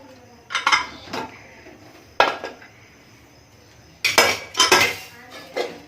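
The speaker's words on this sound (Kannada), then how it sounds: "ಕುಕ್ಕರ್ ಓಪನ್ ಮಾಡಿ ನೋಡೋಣ." A pressure cooker of radish sambar is opened after its pressure has gone down, with sharp metallic clanks and rattles of the lid and vessel in several close bursts separated by pauses.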